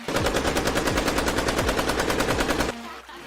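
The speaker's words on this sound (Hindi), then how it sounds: "फिर भी ये हम पर गोली चला रहा है।" Rapid bursts of automatic gunfire sound effect, loud and close, rattling continuously for almost three seconds before cutting off abruptly.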